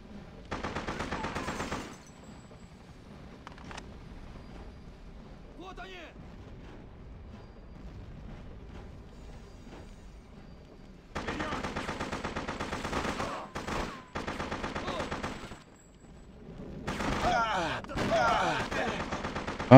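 Bursts of gunfire from the video game Freedom Fighters, loud dense volleys opening the scene and returning near the end, with quieter game ambience and someone talking in between.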